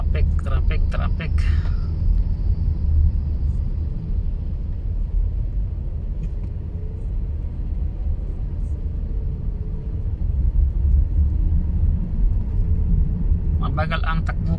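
Steady low road-traffic rumble heard from inside a slow-moving car crawling along in heavy traffic near an exit under an elevated train line, continuous and fairly loud, with brief voices near the start and end.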